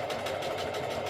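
Sewing machine back stitching through skirt fabric, a steady close whirring drone with fast rapid stitching pulses running continuously without pause.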